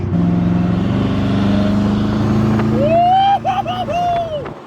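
Koenigsegg Regera car engine at a drive-thru, a low steady rumble held close and loud for about three seconds before it cuts off abruptly, with a short squealing sound and a few knocks after.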